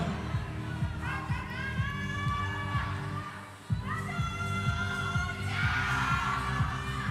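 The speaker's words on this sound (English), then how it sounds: "Wow, incredible energy from the crowd." A crowd cheers and shouts with energy for a climber at a youth bouldering semi-final in Curno. Whistles and calls rise and fall over a thumping beat, and a brief lull is followed by a fresh swell of cheering.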